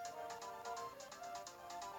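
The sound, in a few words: home telephone ringing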